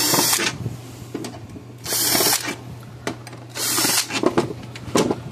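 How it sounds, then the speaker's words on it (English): A power drill whirs in three short bursts, backing screws out of a Cashmans CS6000 electric fence charger, with clicks and small handling noises in between, close and fairly quiet. "we're going to take the screws out of this"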